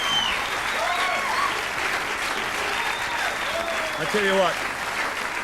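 Loud, sustained applause from a studio audience on the Australian variety show Hey Hey It's Saturday in 1991, greeting Billy Joel, with someone talking over the clapping.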